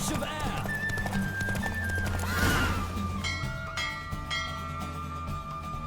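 A horse gallops and whinnies in The Witcher 3 video game, loud neighs over rhythmic hoofbeats, while a voice speaks and game music plays underneath.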